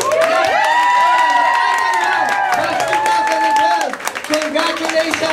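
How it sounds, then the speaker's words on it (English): A crowd at a church outreach graduation ceremony in Tel Aviv breaks into cheering, whoops and clapping for the class valedictorian, with excited voices rising over the applause before it starts to taper off. "please give a congratulatory applause to Rowena Manalili."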